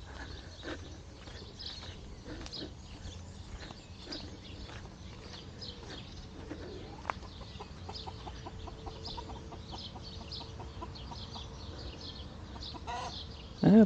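Chickens cluck near their henhouse, a scatter of soft repeated clucks and calls over low outdoor background noise, moderately close.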